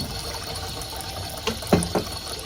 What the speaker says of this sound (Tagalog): Lagyan po natin ng suka itong tubig.